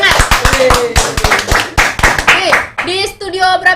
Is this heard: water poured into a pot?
no